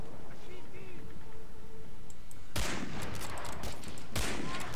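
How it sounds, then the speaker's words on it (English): Gunfire in the World War II shooter Medal of Honor Allied Assault: bursts of loud, dense shots over a constant game noise bed, with faint talk. "Wow, I shot him in the head."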